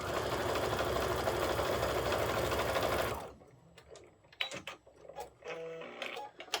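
A sewing machine runs steadily for about three seconds, stitching quilt strips together at a short stitch length for a bargello spring table runner, then stops, leaving quieter handling clicks and rustles.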